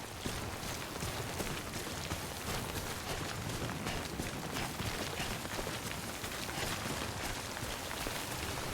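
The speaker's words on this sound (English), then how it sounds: "Raining already. That means BTs are close." Heavy rain pours in the video game Death Stranding, a dense, loud, unbroken wash of hiss with scattered patters and no voices.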